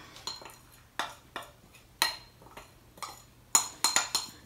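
Christmas treat mixture tipped and stirred in a big bowl, a series of sharp clinks and scraping knocks coming in irregular bursts, close and fairly quiet.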